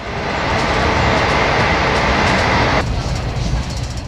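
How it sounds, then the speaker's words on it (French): An express train rumbles steadily along the tracks at about 120 km/h, a dense, loud roar of wheels and rails with faint rhythmic clatter. "Malgré son statut d'express, notre train roule régulièrement à 120 km à l'heure."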